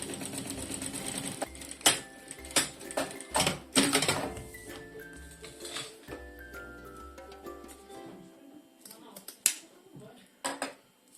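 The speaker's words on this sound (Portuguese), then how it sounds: "vamos fazer aqui uma costura à beirinha deste lado, só para segurarmos então o viés à nossa peça." A sewing machine stitches bias binding along the edge of a clear synthetic trapezoid cosmetic pouch, running in short bursts of rapid clattering separated by brief pauses and light handling clicks, close and fairly loud.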